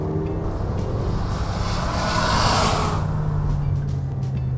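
A 2014 Mercedes-Benz GLA, a little over 180 bhp, accelerates at full throttle, a steady broad roar of engine and road noise that swells to a peak midway and then settles.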